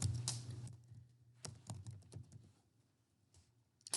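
A name is typed on a computer keyboard in short bursts of quiet clicking keystrokes, close to the microphone, with pauses between clusters and a soft low hum underneath.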